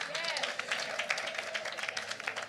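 An audience claps at a heritage month launch event, a dense, continuous patter of many hands with a cheer rising through it, steady and fairly loud throughout.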